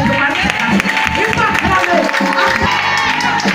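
A church congregation applauds and acclaims during a worship service, with dense, continuous clapping, cheering and shouted voices forming a loud, steady crowd roar throughout.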